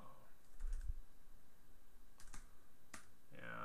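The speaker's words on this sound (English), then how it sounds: "you just kind of type in the" Typing on a computer keyboard while filling in an online registration form, a few scattered, faint key clicks and taps over quiet room noise.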